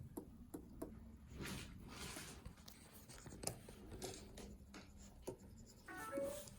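Pen strokes on a Huion Kamvas 20 pen display tablet, a close, soft scratching and tapping as the nib glides and lifts across the surface in short irregular strokes, with no voices.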